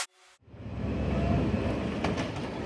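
A train near Kamalapur railway station starts from near silence and swells into a loud, steady rumble with rhythmic clatter of wheels on rails, close by and continuous.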